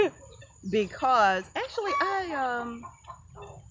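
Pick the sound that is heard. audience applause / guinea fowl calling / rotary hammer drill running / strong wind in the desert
guinea fowl calling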